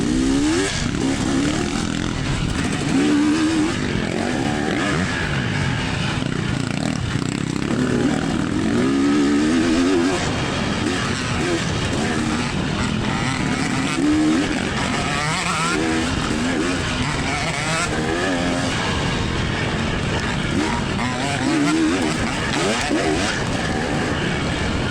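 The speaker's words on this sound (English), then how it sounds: "This guy out here's ripping the YZ, dude. The two-stroke." Dirt bikes racing on an off-road course, including a Yamaha YZ two-stroke, roar continuously at close range with engines revving up and down throughout, alone without talk.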